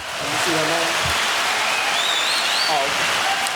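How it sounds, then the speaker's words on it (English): A burst of applause rises quickly and holds as a dense, even clatter of clapping, with faint tonal sounds and brief whistling streaks mixed in. "So I got to cut the applause a little short"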